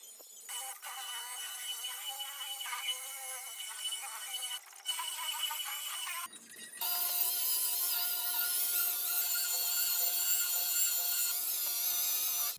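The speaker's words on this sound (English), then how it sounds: "Now I'll polish the detail again, and let's see what the final result will be." A polishing machine whirs against the freshly painted clear coat of a car hood, its high whine running steadily with a couple of brief breaks, then resuming louder and fuller.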